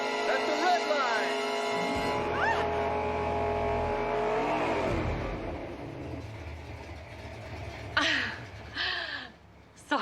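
A race car engine revs hard toward its red line, its whining pitch climbing steadily and then dropping away, with a voice talking over it and a few sharp bursts near the end.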